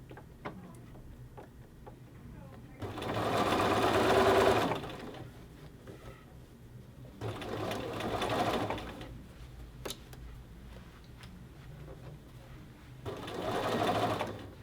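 A sewing machine runs a regular stitch along a men's shirt collar band in three separate bursts of rapid, rhythmic whirring, each lasting a couple of seconds, with quiet pauses between them.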